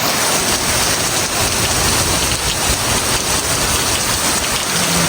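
Heavy typhoon rain pours down in a dense, unbroken roar that stays loud and close for the whole stretch, with no voices over it.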